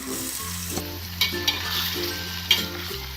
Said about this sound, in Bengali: এখন আমি ম্যারিনেট করা মাংসটা এটার ভিতর দিচ্ছি।